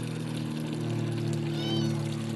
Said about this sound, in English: Got an aeroplane going above, a water butt being emptied, and a meowing cat.